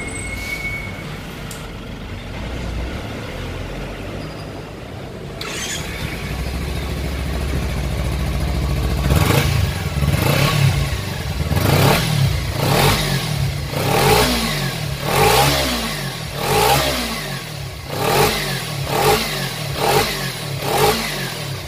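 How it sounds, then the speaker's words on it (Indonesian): Six-year-old Kawasaki Ninja 250cc motorcycle started up and revved, its engine and exhaust idling smoothly, then rising in a series of repeated throttle blips that swell and fall in a steady rhythm, close and clear with no talk. "Sekarang kita hidupkan saja, kita dengarkan suara mesinnya, apakah benar-benar masih halus."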